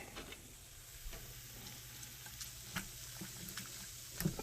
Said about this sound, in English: Now you want to stir it up.